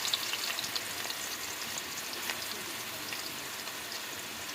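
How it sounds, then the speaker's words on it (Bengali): Chopped onion and garlic fry in a hot pan, a dense, even sizzle and crackle that runs steadily and close without pause, with no one talking. "এখন আমি পেঁয়াজ কুচিগুলো দিয়ে দিচ্ছি সাথে রসুন কুচি"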